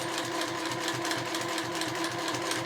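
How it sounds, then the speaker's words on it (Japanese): A sewing machine stitches cotton cut-cloth fabric for a small glasses case without backstitching. The stitching is a fast, even, rhythmic chatter, close and continuous, with no talking. "それでは印のところから返し縫いをしないで縫いましょう。"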